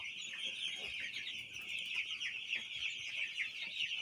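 Eleven-day-old broiler chicks kept indoors beside a light in winter make continuous dense peeping and clucking as a flock, steady and fairly close, with no talk.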